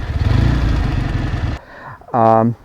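A 1973 Chang Jiang motorcycle engine idles with a loud, steady low chug up close, then cuts off, followed by a brief voice-like tonal burst.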